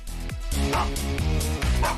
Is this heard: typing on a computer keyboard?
no